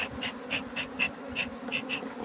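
Honeybees buzz steadily around a hive during a spring colony split, a dense close hum with a few louder passes near the microphone and no talk.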